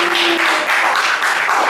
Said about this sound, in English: Sound of the crowd roaring